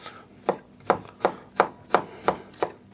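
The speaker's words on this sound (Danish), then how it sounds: "Så må man jo hakke dem lidt bagefter." A knife chops cornichons finely on a cutting board, a run of eight sharp, steady taps close to the listener with no voices.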